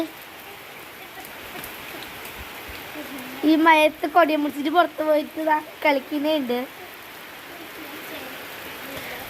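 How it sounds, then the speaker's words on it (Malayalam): Steady, heavy rain hisses throughout, with someone speaking briefly over it in the middle. "നല്ല മഴയാണ്"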